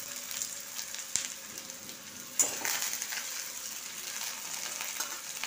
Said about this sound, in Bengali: প্রথমে আমি সর্ষের তেল নিয়েছি, হাফ বাটি পেঁয়াজ দিয়ে দিলাম।